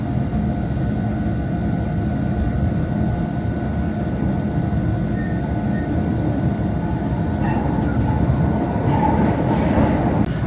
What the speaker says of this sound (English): the train line we are on is the L train because it's elevated above the streets